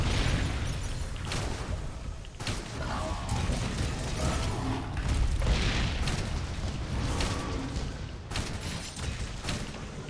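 Weapons fire in Horizon Zero Dawn: sharp bursts and heavy booms strike repeatedly over a constant rumbling game soundscape, with no talking.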